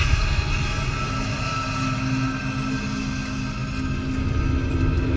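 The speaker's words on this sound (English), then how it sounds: "Pilot, engage second stage rocket now." A Mission Space ride simulator at Epcot fires its second-stage rocket: a steady, loud low rumble with a constant hum, holding even for about five seconds like a vehicle running on rails.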